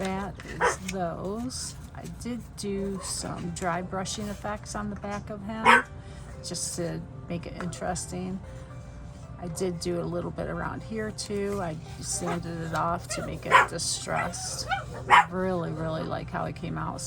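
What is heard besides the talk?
dogs barking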